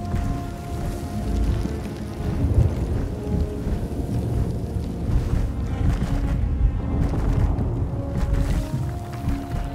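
A thunderstorm rages in Star Wars Jedi: Survivor, with heavy rain and a deep rolling rumble building to booming peaks, loud and continuous throughout, with no voices.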